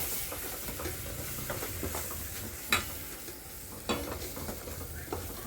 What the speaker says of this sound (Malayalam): നമുക്ക് നല്ലോണം ഒന്ന് മിക്സ് ചെയ്ത് എടുക്കാം.